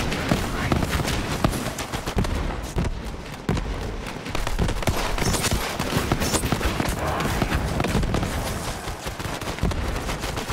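Hand-cannon pistol fire mixed into a heavy Borderlands 3 video game firefight, a continuous loud barrage of overlapping shots and bursts with a brief lull partway through.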